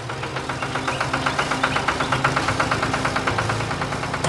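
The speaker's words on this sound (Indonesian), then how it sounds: "Mesin hijau itu melaju dengan cepat, melintasi medan berbatu." Engine of a green animated combine harvester driving over rocky farm ground, a steady mid-pitched idling chug with an even rapid knocking pulse, moderately loud and alone.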